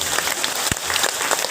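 Audience applause at a talk, a dense wash of clapping that holds steady and fills the whole stretch, with no voices rising above it.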